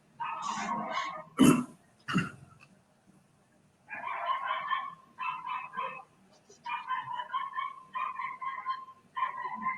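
A neighbor's dog barks repeatedly in short, evenly spaced bursts, somewhat distant, with a couple of sharp coughs or thumps near the start.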